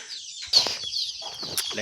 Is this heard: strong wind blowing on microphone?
no